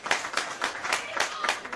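Bulleen supporters at a men's Victorian Premier League soccer match between Eastern Lions SC and FC Bulleen Lions clapping, a thin crowd producing distinct, fairly regular claps from a modest distance.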